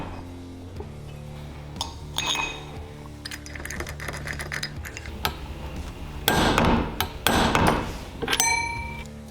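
Flywheel, starter cup and nut being reinstalled on a 223cc stroker small engine, with sharp metallic clinks, taps and ratcheting tool sounds in irregular bursts, close by and without talk.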